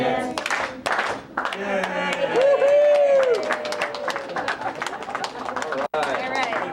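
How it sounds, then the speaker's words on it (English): Family members clap their hands in quick, uneven bursts while voices sing a children's song at an indoor family gathering, with the claps sharp and close under the singing. "If you're happy and you know it, clap your hands."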